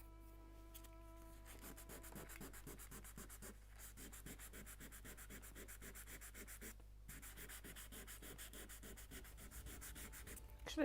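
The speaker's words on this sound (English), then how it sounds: "I just can use sanding block like this and just sand it like this" A sanding block rubs back and forth on a wooden bulkhead for a 1:76 scale Mayflower model ship kit, a quiet, rhythmic series of short scratchy strokes, close up, over a steady low hum.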